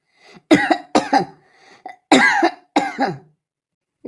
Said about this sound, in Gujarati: તો આ ઉધરસે એટલી થઈ છે મટવાનું નામ જ નથી લેતી